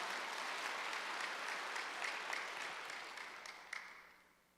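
Applause from a church congregation at a Wednesday worship service, dense steady clapping that fills the space and gradually fades out, with a few louder claps near the end.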